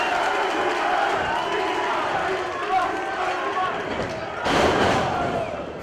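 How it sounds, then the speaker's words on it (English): A crowd at a professional wrestling event cheers and roars continuously under excited commentary, with a loud slam-like burst near the end. "and the crowd loves it."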